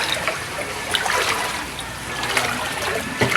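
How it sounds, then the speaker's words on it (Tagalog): Floodwater from the southwest monsoon runs through a submerged compound in Lipa City, Batangas, a close, continuous trickling and splashing flow with small bursts, heard alone without speech. "Talagang lubog sa bahang parting to."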